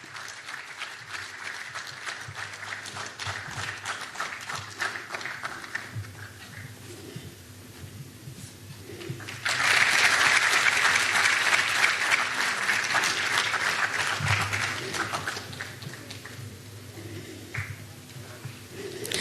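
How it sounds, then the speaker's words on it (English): An audience applauds a speaker at a seafarers' event in Goa, steady clapping that swells into a louder, denser burst midway before tapering off again. "A round of applause to Captain Tushar Pradhan."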